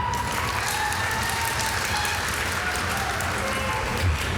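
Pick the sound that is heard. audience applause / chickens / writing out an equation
audience applause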